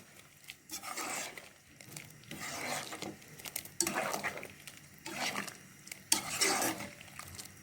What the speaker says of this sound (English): Now just add them inside the soup. This is mainly to thicken the soup. And give this a stir.